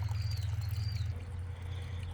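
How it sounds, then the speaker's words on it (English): A small garden water feature trickles steadily behind a strong low hum, with a couple of bird chirps early on. "This is Ralphie's little water feature that he does every year here."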